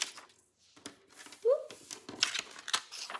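Scissors cutting up paper cards, with several short snips and rustles of paper close by, interrupted by brief bits of talk.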